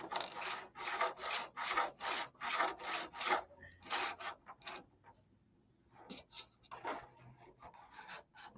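Wood being rubbed during a repair of a model aircraft's lead-out, a series of close, fairly faint rasping strokes in a steady rhythm that pauses briefly, then resumes in shorter, more scattered rubs.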